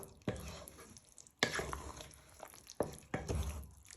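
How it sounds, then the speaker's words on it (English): A spoon stirs BBQ bean casserole with mashed potato and chilli powder in a pot: three or four thick, wet scraping strokes with soft squelches, close and moderately loud, no talking. "You want to give that a little bit of a stir."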